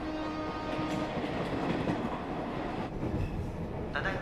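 A train runs through snow with a steady, loud rumble of wheels and carriage noise, continuous throughout with no voices.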